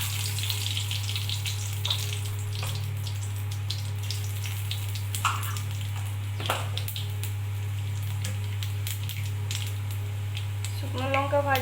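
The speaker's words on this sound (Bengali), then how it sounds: "শুকনো লঙ্কা ভাজা হয়ে গেছে" Dried red chillies frying in hot oil in a kadai as a tempering for sour mango dal, giving a steady close sizzle with scattered crackles over a constant low hum.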